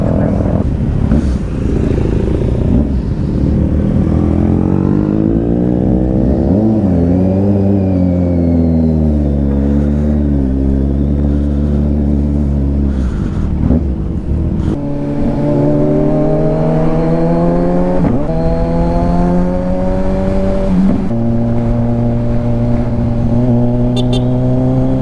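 Motorcycles on a group ride, including a Ninja 1000, a GSX 1000 GT, a Triumph and a GS, their engines droning loud and close with steady rising and falling revs.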